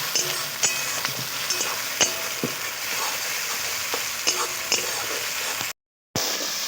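Chopped ginger, garlic, onion and tomato frying together in a pan: a continuous close sizzle broken by regular spoon clicks and scrapes as the mix is stirred, with a brief dropout to silence near the end.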